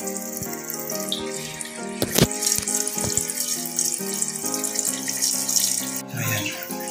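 Water rushes steadily from a tap after the angle valve on a toilet supply line is opened during a pipe and fittings replacement, a loud, continuous hissing flow with a faint tonal whine and no talking.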